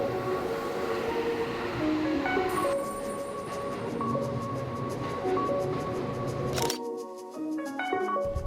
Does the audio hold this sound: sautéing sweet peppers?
no